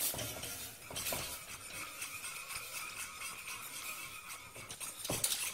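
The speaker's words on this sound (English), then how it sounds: "Then add a second third of the milk and stir that in." Milk is stirred into a thickening white sauce for a smoked haddock soufflé, giving a soft, continuous wet scraping and swishing close by, fairly quiet, with a faint clink near the end.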